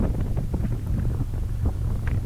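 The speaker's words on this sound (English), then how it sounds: "it's really windy today as well" Strong wind buffets the microphone of a rider on a Harley-Davidson Road King motorcycle during a road test ride, producing a continuous low, rumbling roar with gusty flutters.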